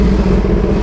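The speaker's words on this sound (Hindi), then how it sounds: "ZX10R लेके घूम रहा है कोई।" A Kawasaki ZX10R motorcycle rides past, its engine a loud, steady rumble filling the whole short moment with no talk.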